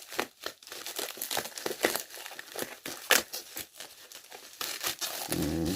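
Tape being torn and peeled off a mailed package, a dense run of close, crackly crinkling and ripping bursts with no voices.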